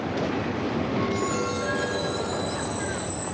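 A passenger train rolls past with steady rumbling and high squealing wheels, tonal screeches rising and sustained throughout, loud and close with no talk.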